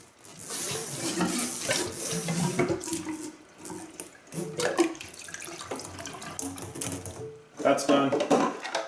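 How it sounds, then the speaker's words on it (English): Water from a sink tap runs into a CPAP tube with a steady splashing rush. Clatter and handling knocks sound through it, and a person talks over the running water. "Fill that with a little bit of water."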